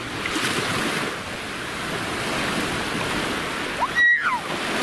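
Ocean waves wash and break on a sunny beach in a continuous rolling surge mixed with wind rumble, with a brief high squeak near the end.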